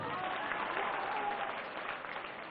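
Sustained, dense applause from an audience at a BJP political rally in Bihar, steady and fairly loud for the whole stretch, easing slightly near the end.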